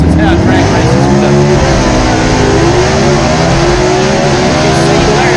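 Vintage gasser drag race cars launching at London Dragway in London, Kentucky: loud, continuous engine roar whose pitch climbs steadily as the cars accelerate down the strip, with a hint of tire noise.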